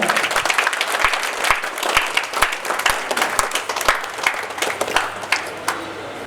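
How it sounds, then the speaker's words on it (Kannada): A hall audience claps at the third anniversary event of a charitable dialysis centre, producing a dense, continuous round of applause with a few louder individual claps standing out throughout. "ಮತ್ತೊಂದು ಸಲ ಜೋರಾಗಿ ಚಪ್ಪಾಳೆ ತಮ್ಮೆಲ್ಲರ ಕಡೆಯಿಂದ"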